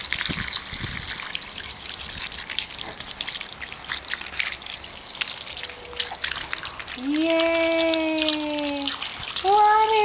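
Water from a garden hose runs steadily during a dog's outdoor bath in a yard, a continuous trickling splash with a voice making tonal, whining sounds toward the end.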